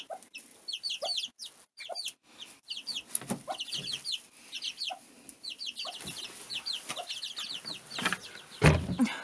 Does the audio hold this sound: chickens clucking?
yes